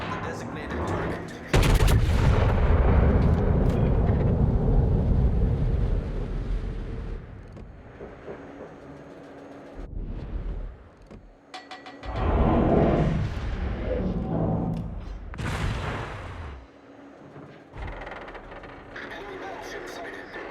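Heavy battleship guns from the USS Iowa in the World of Warships naval combat game let loose repeated deep booming salvos with long rumbling tails, alongside synthetic voice announcements.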